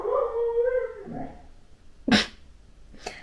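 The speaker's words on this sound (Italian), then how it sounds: "È molto territoriale, molto possessivo questo cane." A territorial, possessive dog gives a long, wavering whine that drifts into a howl, followed by two short sharp yelps or barks, close by with no talk over it.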